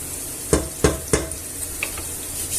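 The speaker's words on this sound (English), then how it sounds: "Give it a nice mix there to let the flavours out" A spoon stirs meatball stew with a bay leaf in a pot, making three sharp knocks against the side in quick succession followed by softer scraping and a low simmering sizzle.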